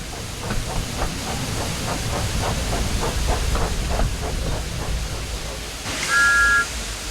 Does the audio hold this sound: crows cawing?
no